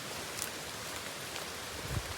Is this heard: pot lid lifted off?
no